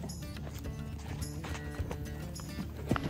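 Horses running at an animal sanctuary farm clip-clop in a quick, uneven rhythm against a busy background, moderately loud.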